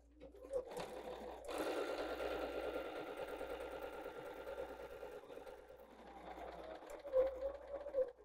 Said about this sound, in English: All right, let's go sew our quarter inch seam.